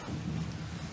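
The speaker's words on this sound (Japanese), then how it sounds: "雷がとどろき、" Distant thunder gives a low, continuous rumble during a stage performance, muffled and steady for about a second, with faint rain-like hiss above it.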